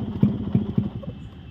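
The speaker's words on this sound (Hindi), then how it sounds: "बाकी मैं गाड़ी को आपको स्टार्ट करके दिखाता हूँ।" A Yamaha RX100 two-stroke motorcycle engine coughs through a start attempt, with three close, loud low pulses and an uneven rumble settling toward idle.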